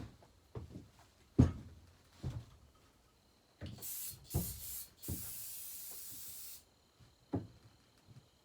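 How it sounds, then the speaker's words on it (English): Several short bursts of aerosol cleaner sprayed onto the carburetor of a barn-find chainsaw in unknown condition, followed by one long steady hiss, with quiet clicks and handling noises between the sprays. "I'll spray it off camera real quick to get some more off of it."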